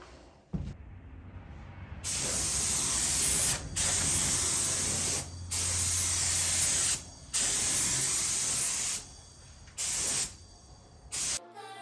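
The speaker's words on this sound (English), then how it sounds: "Do some test sprays over here on this newspaper." Spray paint can fired in test bursts onto newspaper in a cold, dusty barn: several loud, close hissing sprays of varying length, separated by brief silences, with no talking.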